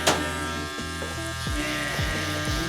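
Electric hair clippers with a 1.5 guard and the lever open buzz steadily up close while cutting hair during a taper haircut. The motor pitch drops briefly several times as the blades pass through the hair.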